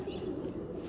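Pigeon cooing on a rooftop loft, a low continuous murmuring coo close by, steady throughout with no talk over it.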